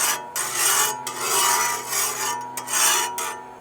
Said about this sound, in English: We're going to go ahead and get that spread around with our spatula here.